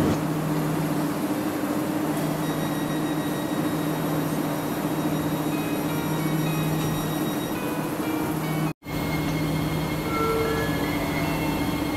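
A train idles at a station platform, giving a steady low hum and broadband noise with faint tonal whines, broken by one brief dropout near the end.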